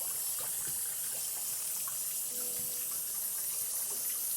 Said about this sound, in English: just enjoy the sounds of running sink water